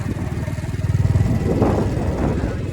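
A motorcycle putters along a farm track past fields, its mid-pitched engine chugging steadily and close with a brief rise in revs and some rattling.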